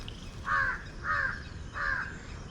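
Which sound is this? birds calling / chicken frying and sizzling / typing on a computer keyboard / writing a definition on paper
birds calling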